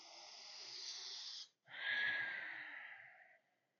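Slow, deep breathing during a yoga squat practice: a long steady airy inhale, a brief pause, then a longer, fuller exhale, close and quiet with no talking.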